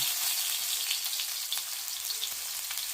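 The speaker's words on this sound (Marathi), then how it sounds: "जिरे मोहरी छान क्रॅकल झाली की घालूयात अर्धा चमचा आले आणि अर्धा चमचा लसूण" Minced ginger and garlic sizzle in hot oil with crackling cumin and mustard seeds for a tomato tava bhaji, a steady close hiss with faint scattered pops, no voices.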